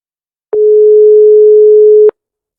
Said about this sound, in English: Nico's phone was busy.